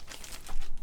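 Crisp crinkling and rustling of a thin plastic bag being opened around a lightsaber hilt during unboxing, a quick close-up burst of crackles under a second.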